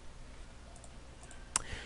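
A single quiet computer mouse click, made while editing an image in Photoshop CS6, sounds once near the end over a low steady hum.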